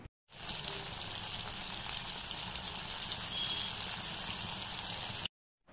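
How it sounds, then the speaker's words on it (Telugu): Manchurian balls deep frying in hot oil in a kadai, a steady broadband sizzle and bubbling that runs unbroken for about five seconds, loud and close, with no talking. "అందులో మంచూరియన్ బాల్స్ వేసుకొని గోల్డెన్ బ్రౌన్ కలర్లోకి వచ్చేదాకా ఫ్రై"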